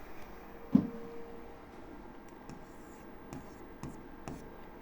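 Marker or chalk scratching across a classroom board during a Class 10 probability lesson, a few short strokes and taps spread over several seconds, faint against a steady room hum with no talking.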